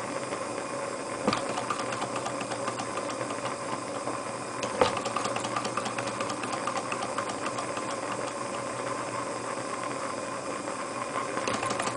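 A Grizzly H8102 Stirling engine, torch-heated, runs with a steady low mechanical hum and faint hiss, a couple of brief clicks standing out, close and alone with no talking.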